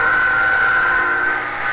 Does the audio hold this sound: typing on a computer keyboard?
no